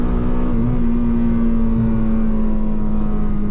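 A Honda Civic Type R engine held steady after a downshift to third, a loud, near, continuous droning hum with a strong sustained tone, heard alone with no voices.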